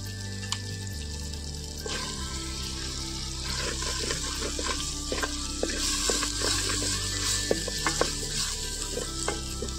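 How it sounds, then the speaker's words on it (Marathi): A steady hot-oil sizzle crackles for several seconds, punctuated by sharp pops and spits as spices fry in a little oil in a clay pot. "बघा कमी तेलात किती फोडणी झाली"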